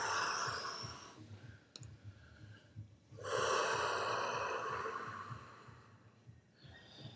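Deep, slow breathing in a restorative yoga class, long audible inhales and exhales close by, with a sharp click partway through and no talking.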